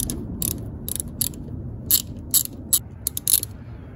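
A ratchet loosens a 10 millimeter bolt on a Honda Accord throttle body, giving bursts of quick, sharp clicking close by, spaced irregularly over a quiet background hum with no talk.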